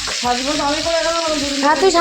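Food fries in a pan during home cooking, a loud close sizzle with intermittent stirring scrapes and bubbling, with background noise and brief voice-like tones.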